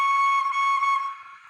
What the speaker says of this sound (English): So let's give a little blast of that whistle